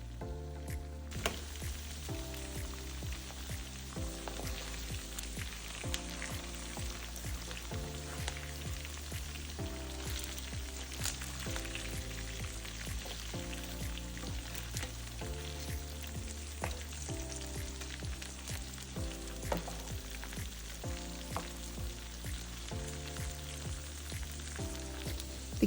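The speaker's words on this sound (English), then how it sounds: "The gizzard has been frying and it's just like I wanted." Steady crackling and sizzling of gizzards frying in hot oil, continuous and close, with a constant bubbling texture throughout.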